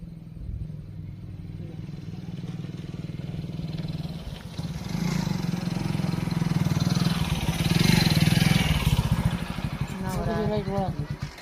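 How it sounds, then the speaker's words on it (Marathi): A motorcycle engine approaches and grows louder, idling and revving nearby while people talk over it. "येतोय गाडीचा आवाज"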